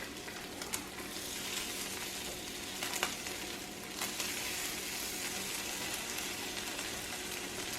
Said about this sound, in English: I'm going to flip the bacon over on the other side so the other side can cook